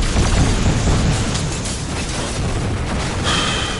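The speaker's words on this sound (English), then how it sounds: "I'm not pulling the trigger at all, my gun is firing." A gun firing in the PSVR video game Sabre, a loud, continuous barrage of booming shots with a brighter mechanical hiss near the end.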